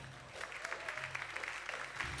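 Studio audience applause on a Turkish talk show, a steady wash of clapping that runs the full length at moderate level, with a low musical hum underneath and no clear talk.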